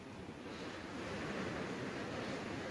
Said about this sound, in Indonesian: Ini kali ini kok jadi ombak banget.